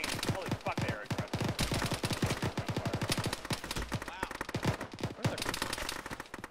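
Dense gunfire in an Arma (ShackTac) battle around a village, with rapid automatic bursts and repeated single shots crackling continuously throughout, loud and close, while voices talk over the shooting.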